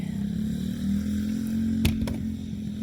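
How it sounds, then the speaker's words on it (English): A power sander grinds away old sealant on a van roof, a steady loud motor drone with a strong low hum running throughout, broken by two brief sharp bursts near the middle. "I'm sanding down whatever this stuff was they put on there"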